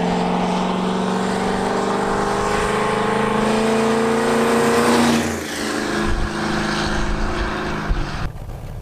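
Pickup truck engine roaring loud and close, revving hard with a rising pitch as it accelerates, then dropping off and settling into a rough, throaty idle near the end.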